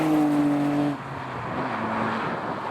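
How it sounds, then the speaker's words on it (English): A modified Nissan R32 GTR flies past close by with a loud, rising engine note. The pitch drops sharply as it goes by, leaving a fainter, lower drone as it pulls away. "R32 for the flyby."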